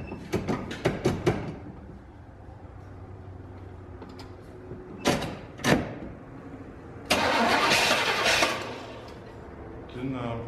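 A Vert Delta engine cranks and nearly fires, with loud starter whirring in short bursts, pauses, and a louder near-catch before it dies back, captured close up.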